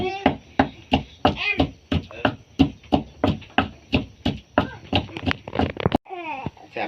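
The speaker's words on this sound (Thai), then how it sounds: "เพิ่นยังตำบักพริกเนาะ" Chili being pounded in a mortar for a northeastern Thai dish, with a steady series of sharp, rhythmic thumps at close range and a brief burst of chatter at the end.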